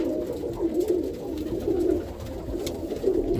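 Roller pigeons coo in a loft, a soft, steady, low burbling that repeats in gentle waves. Faint rustling and shuffling sound beneath it, and no one speaks.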